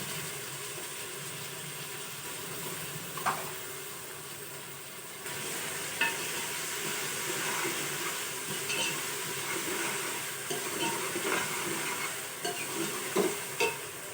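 Chopped, peeled tomatoes tipped into a hot frying pan for a turnip and chicken curry, giving a steady broad sizzle with a few stirring clinks and scrapes throughout, no talking.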